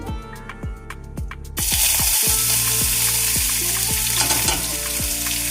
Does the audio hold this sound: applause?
no